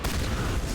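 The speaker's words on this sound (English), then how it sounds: "I love this shotgun, though." A shotgun fires in the video game Mass Effect 1, a short, dense burst of loud blasts that fills the moment.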